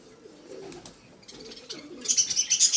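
Soft low coos from a Cheena pigeon repeat a few times, followed by a brighter burst of rustling or fluttering noise near the end.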